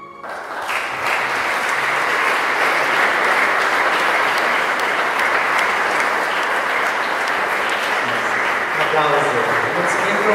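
Sustained, dense applause from a large crowd at an art exhibition opening in Iași's Palace of Culture, steady and full for about ten seconds after a brief spoken lead-in, tailing off slightly at the end.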